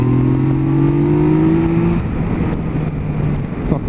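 A sport motorcycle, likely a Yamaha, accelerates hard in third gear on an open road, engine note climbing steadily before easing off around the midpoint into wind roar and a fainter drone.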